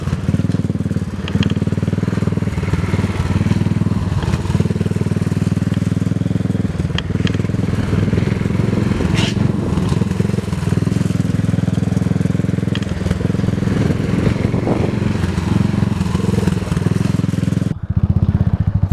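A Buell motorcycle with a blown front fork seal is ridden hard through corners, its engine droning loudly and steadily for the whole stretch under constant wind rush, then dipping briefly near the end.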